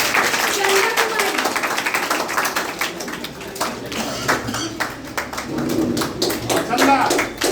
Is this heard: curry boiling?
no